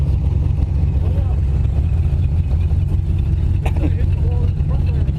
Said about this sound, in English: Well, the wheels spin, but it's not going anywhere